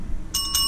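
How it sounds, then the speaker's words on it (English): A bell rung twice in quick succession, each strike a bright ringing tone with a sustained shimmer, close and clear against a low background rumble. "apparently ringing the bell is my shout"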